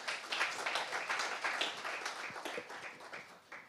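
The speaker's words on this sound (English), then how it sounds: "Can we give him another round of applause?" Scattered clapping from a conference audience applauding a speaker, fairly faint and thin, a modest round of hands that tapers off toward the end.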